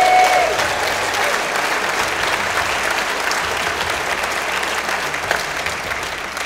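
An audience at a social entrepreneurs awards event applauds, dense steady clapping sustained for several seconds at fairly loud level, with no voices over it.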